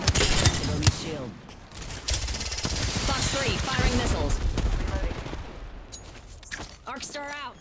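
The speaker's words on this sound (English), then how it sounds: "firing missiles" Valkyrie's missile swarm from the Apex Legends video game launches as a dense, loud volley of rapid bursts and explosive thuds amid other gunfire, with in-game voice lines heard over the chaotic battle sounds.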